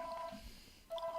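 Telephone dialing tones, two short steady dual-tone beeps separated by a quiet gap, faint and clean with little else around them.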